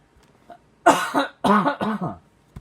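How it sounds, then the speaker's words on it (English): A person coughing close by in a few harsh, rough bursts, two of them longer and stuttering, with quiet pauses between. "Oh, I apologize for the coughing."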